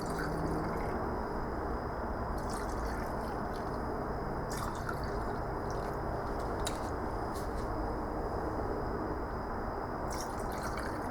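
Liquid poured into the combustion chambers of bare aluminum cylinder heads, a continuous trickling and dripping close by with scattered small splashes and clinks, steady and fairly loud without talk.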